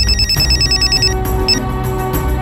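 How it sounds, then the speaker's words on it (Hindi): A telephone rings insistently with repeated electronic trills in quick bursts over a low background hum, loud and close. "हाँ सीमा बोल, क्यों बार बार फोन कर रही है?"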